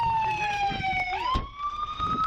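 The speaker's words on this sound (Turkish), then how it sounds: "Sireni kapatmalı." An American police car siren wails steadily and loudly nearby, its tone dipping and rising once, with faint vehicle noise underneath.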